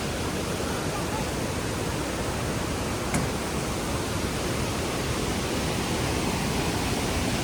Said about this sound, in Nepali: अबि तल त डेन्जर खोला रहेछ।